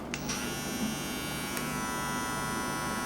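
A VGR V-026 cordless hair clipper motor runs at 7,000 rpm with a steady, high electric buzz, close and constant throughout, with no voices.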